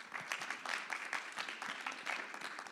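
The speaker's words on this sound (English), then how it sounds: "give him a round of applause" A round of applause from a conference audience, with many hands clapping in a dense, moderately faint patter that holds steady for the whole stretch with no voices.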